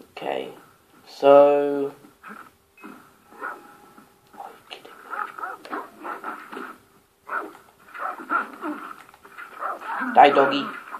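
A video game dog in Far Cry 4 yelps and whines in short bursts while a person talks over it, the barks sharp and close at the start and end.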